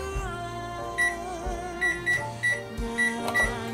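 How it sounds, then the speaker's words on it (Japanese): A kitchen oven is set to bake American-style mac and cheese at 200 degrees, giving a series of short, bright electronic beeps at an irregular pace over a low steady hum, with music playing underneath. "じゃあこれを、オーブンに入れて焼いていきます"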